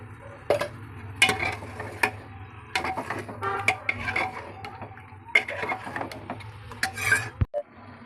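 Metal utensils scrape and clatter against a pressure cooker in irregular strokes as mutton is stirred and fried, over a steady low sizzling hum, close by, with no talking.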